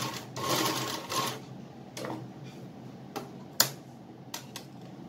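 A sewing machine stitches piping onto a small cotton bib frock, running in a few short bursts of rapid needle chatter separated by pauses and sharp clicks, close and fairly loud with no talking.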